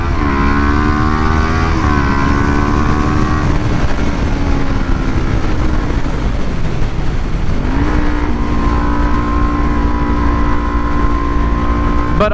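Kawasaki Ninja 400 KRT motorcycle engine droning steadily while riding, its pitch stepping up and down through gear changes, loud and close with wind rush and no talking.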